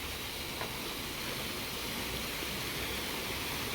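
Water pours at a waterfall by a forest temple in Laos, a constant, even roar of rushing water with no breaks and no voices.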